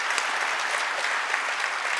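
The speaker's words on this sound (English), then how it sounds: "Let's give them a round of applause once again." An audience applauds debaters at the close of a formal debate, with dense steady clapping from a large crowd, sustained and fairly loud throughout, and no voices over it.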